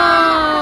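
A crowd cheers and shouts loudly at a boat race during the Kress Cup in Amlan, one short burst of dense, close voices.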